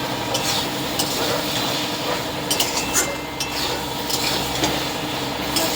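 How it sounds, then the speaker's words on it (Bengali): Chana dal bora curry, lentil fritters in a spiced gravy with a little water, is stirred and pressed in a pan, with a steady soft sizzle and light metallic scrapes and clinks throughout, close by and with no talk. "একটু জল দিয়ে ভালো করে কষিয়ে নেবো।"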